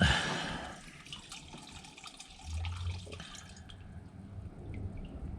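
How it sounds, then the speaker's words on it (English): Gasoline draining out of a removed fuel pump with a float, during a ZL1 fuel pump install on a G8: a soft, close trickle with faint irregular drips, alone and fairly quiet. "Just kind of let the gas drain out of it too, because it will drain out."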